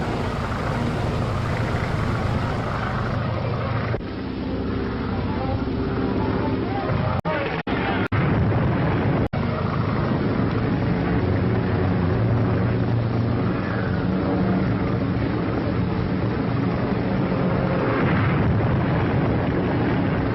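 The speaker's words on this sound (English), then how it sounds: "Yeah, that's stock footage of the Hindenburg exploding." Stock footage of the Hindenburg airship exploding: a sustained, loud roaring rumble with crowd babble throughout, broken by a few sharp cracks partway through.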